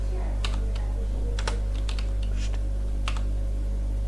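Irregular keystrokes tapping on a computer keyboard while writing web design code in Windows Notepad, crisp close clicks in uneven bursts over a steady low electrical hum, with no talking.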